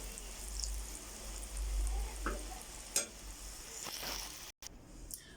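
Battered cauliflower frying in hot oil, a quiet continuous sizzle with a low rumble underneath and a few soft clinks and utensil taps, no voices.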